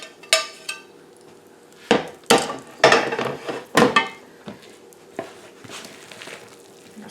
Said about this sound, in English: Stir everything together till it's well mixed.